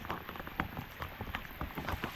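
Rain falls steadily on a grassy outdoor spot, with a dense patter of close drops hitting the ground and surfaces and no voices heard.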